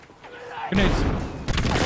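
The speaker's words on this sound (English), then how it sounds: "Grenades." Grenade explosions in a shooter video game hit in a quick pair, a dull thudding blast followed by a second burst, loud and close, with a voice briefly heard before.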